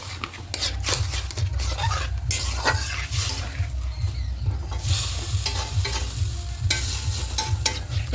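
Rice mixture for a vegetarian dalia (broken wheat) pulao stirred in a pot over a gas flame, a steady close scraping and sloshing with faint sizzle and a low continuous hum throughout.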